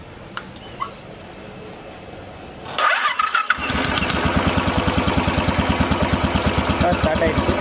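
A Royal Enfield Classic 500 motorcycle, freshly reassembled after throttle body and injector cleaning, cranks briefly and catches, then settles into a steady, close, thumping single-cylinder idle over faint background noise.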